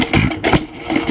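A 1926 Nelson Bros. hit and miss engine running nearby, loud rhythmic chugging with repeated firing pulses and mechanical clatter over a continuous rumble.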